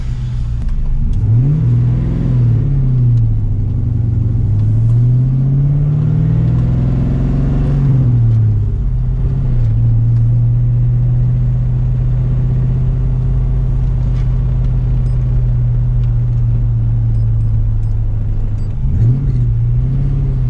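A 1999-2004 car engine, after new motor mounts were fitted, rumbles loudly and steadily close by, revving up and settling several times as the vehicle drives along, with no voices.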